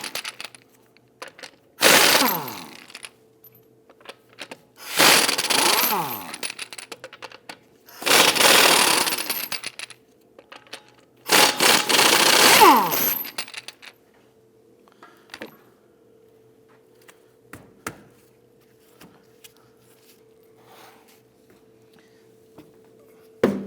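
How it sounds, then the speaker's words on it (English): Impact wrench with a 19mm socket loosening and removing the wheel studs on a 2009-2017 Volvo XC60, four loud whirring bursts of a few seconds each, spaced apart, with quiet garage clatter between and a steady low hum throughout. "let's loosen and remove the studs."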